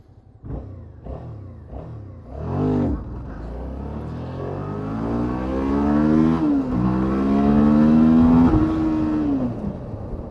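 A motorcycle launches hard on a 0 to 60 run with traction control on. Its engine climbs through a few quick revs, then winds up in long, loud, rising pulls, with a gear change along the way, close and alone.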